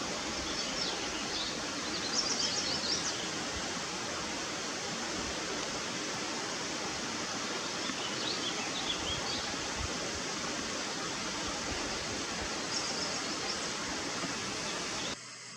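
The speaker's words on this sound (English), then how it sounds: "a wild turkey family getting a drink of water from a" A woodland stream where a family of wild turkeys drinks, heard as a steady, broadband wash of flowing water, even and continuous throughout, with a few faint high chirps above it.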